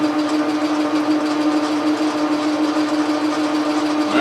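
A lathe takes a coarse cut along a telescope declination shaft, a steady close droning hum with a constant tone holding evenly throughout with no talk.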